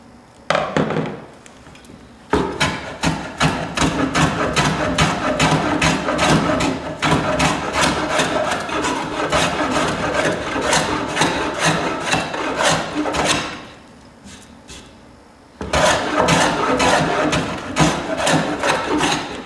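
A hand plane shaves wood in long, repeated rasping strokes that ring loud and close, pausing briefly partway through before the strokes resume, with no talking.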